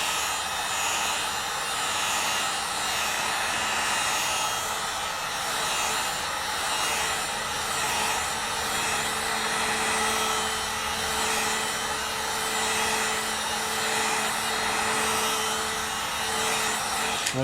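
A hair dryer blows continuously on a leather repair in torn bycast leather, a loud steady whooshing roar with a faint motor whine, unbroken and alone throughout.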